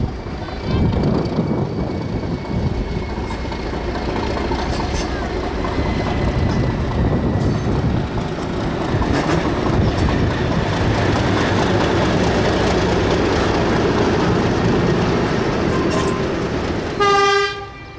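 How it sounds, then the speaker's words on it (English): English Electric diesel locomotives DI1102 and DG772 rumble steadily as a passenger train rolls past with clattering wagons toward Glenmark Station on the Weka Pass Railway, ending in a loud horn blast near the close. "DI1102 and DG772 make their way to Glenmark Station with the passenger train."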